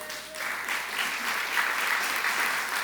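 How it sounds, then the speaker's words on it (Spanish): A church congregation claps loudly together after a sermon, making a dense, steady wash of applause that swells slightly and continues for the full few seconds, with no talk over it. "Apláudele fuerte al Señor."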